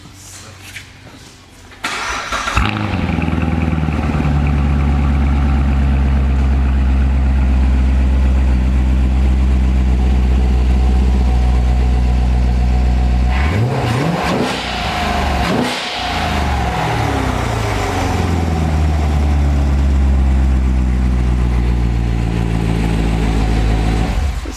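Stock Chevrolet Corvette Grand Sport V8 with a chrome gold wrap starts up, then idles loudly and steadily before a sharp rev blips and settles back into a rumbling idle, close by with no talk.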